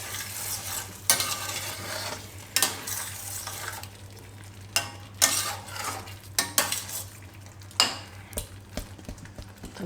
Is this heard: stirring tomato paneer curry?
yes